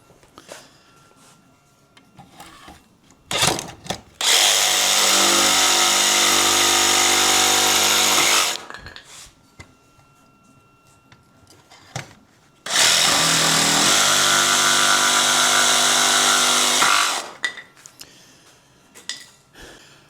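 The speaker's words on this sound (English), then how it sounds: "finish this with a jigsaw" A jigsaw cuts wood for a tiny-house stair ladder in two loud, sustained bursts of about four seconds each, separated by a quiet pause with faint handling noises.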